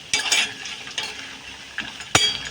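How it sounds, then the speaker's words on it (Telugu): Vadiyalu (sun-dried lentil fritters) stir-frying with brinjal and tomato in a pan, a steady close sizzle broken by several sharp scraping stirs and clinks, with no talking. "ఇప్పుడు ఇది నేను వంకాయ టమాటాతో పాటు ఈ వడియాలు వండుతానమాట"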